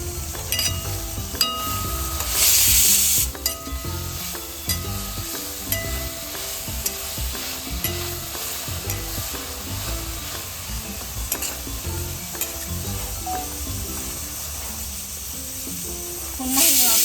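Methi greens cook in a pan on a low flame, giving a continuous soft sizzle and hiss with stirring scrapes and occasional clinks, while a voice talks quietly underneath for much of the time.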